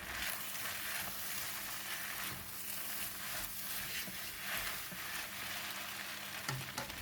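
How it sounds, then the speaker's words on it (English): Kailan is stir-fried with flat rice noodles for Thai pad see ew, giving a steady, quiet sizzle in a hot pan with soft scraping and stirring sounds throughout. "Add in the kailan and stir until well mixed."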